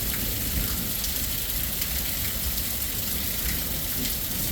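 Heavy rain pours in the desert, a dense, steady roar of water hitting the ground and flooding down a street, loud and constant throughout with no voices.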